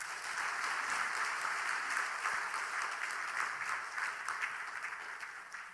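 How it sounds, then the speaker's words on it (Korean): A church congregation at a Sunday service claps together in warm, dense applause that holds steady and then tapers slightly toward the end. "다시 한번 박수하십시다"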